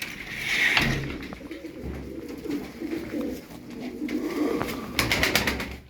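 Pigeons coo softly amid fluttering and rustling, with scattered low murmuring calls close by and a few sharp clicks.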